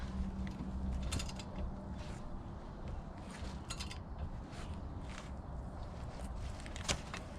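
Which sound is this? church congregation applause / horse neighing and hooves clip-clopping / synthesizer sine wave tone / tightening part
tightening part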